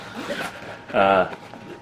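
A quick zipper pull on an SW Motech EVO motorcycle rear bag rasps briefly in the middle while a person keeps talking before and after it.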